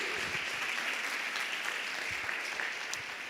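Church congregation applauding during a worship service, a dense, even wash of many hands clapping that holds steady throughout and fades slightly at the end.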